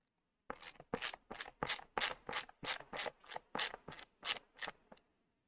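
A ratcheting screwdriver works a screw in pine, giving about a dozen evenly spaced, crisp clicking bursts close up with no talk.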